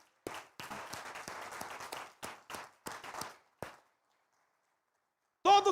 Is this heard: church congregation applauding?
yes